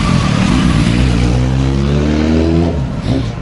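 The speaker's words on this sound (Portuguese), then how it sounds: "Olha, mais duas motozinhas a chegar." Two small motorcycles pull up at a hilltop tourist spot in Júzcar, Spain, their engines loud and close, a steady revving drone with rising pitch that eases off near the end.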